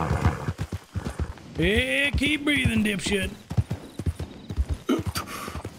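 A horse's hooves clip-clop in a role-play video game, with a drawn-out neigh partway through, while someone talks over the steady hoofbeats.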